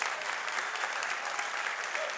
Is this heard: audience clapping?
yes